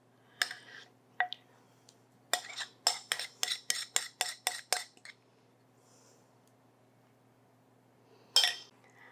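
Pasta salad tossed with dressing in a bowl, a run of about ten quick, evenly spaced clinks and scrapes of a utensil against the dish, close and fairly quiet, with a couple of isolated taps before and one after a pause.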